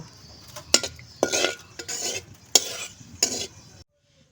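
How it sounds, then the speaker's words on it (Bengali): Dried red chilies fry in oil in a wok, with several bursts of scraping stirring and sizzle over about four seconds, then a sudden stop. "ঝালগুলা লাল করে ভেজে নিব"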